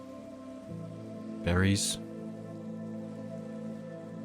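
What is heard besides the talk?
rain falling in the video game Minecraft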